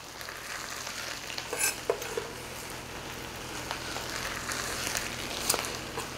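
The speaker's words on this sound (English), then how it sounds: "without breaking up the rice, completely mix it all together. We're going to drop in our fried Spam" Kimchi fried rice and fried Spam are stirred in a hot pan. A steady sizzle and frying crackle run throughout, with scraping and tossing strokes of the spatula and a few sharper clinks.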